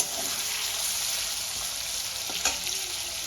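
Paneer cubes fry gently in hot oil, a steady bright sizzle that holds even and close throughout, with one small pop or stir partway through.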